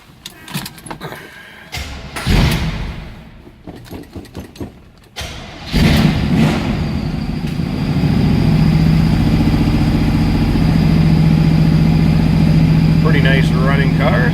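1969 Chevrolet Camaro Z/28 with a four-speed floor shift cranking and catching on a cold start, then settling into a steady, loud idle; a door clunk and some handling noises come first.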